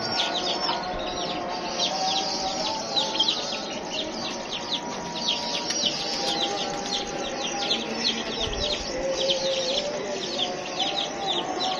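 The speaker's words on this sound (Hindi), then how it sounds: "बाकी जी कबूतर शबूतर खोले हुए हैं।" Dense, continuous chorus of pigeons calling and chirping, with cooing and clucking tones mixed into a busy outdoor din.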